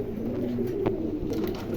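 Soft, low pigeon cooing in a steady murmur, close by, with faint background noise and no talking.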